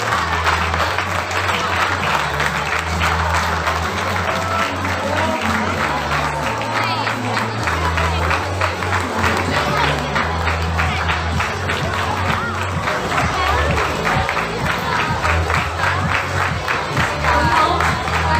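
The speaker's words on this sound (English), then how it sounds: "Please applaud." Festival audience at a school event applauding and cheering, a dense sustained wash of clapping over a low musical drone with steady tones shifting pitch, loud and continuous throughout.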